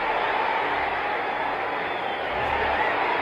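Boxing arena crowd at the Muhammad Ali vs Ron Lyle fight: a dense, steady roar of many voices, loud and continuous throughout, like a sustained crowd reaction.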